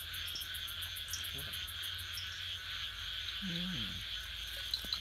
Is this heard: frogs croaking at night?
yes